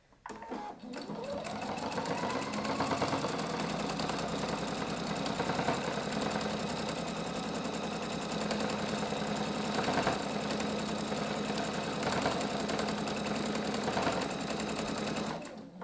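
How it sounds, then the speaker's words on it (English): A sewing machine with an integrated dual-feed (IDT) foot stitches steadily over thick layers of quilted fabric on a travel bag, its close, even mechanical whir running without pause. "You can hear the machines just going straight over."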